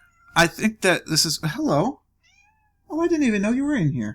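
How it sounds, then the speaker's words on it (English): Riley, a black and white domestic American Shorthair cat, meows several times up close in quick separate calls, then a longer meow follows after a pause; a person talks to the cat between the calls. "That's my cat, Riley."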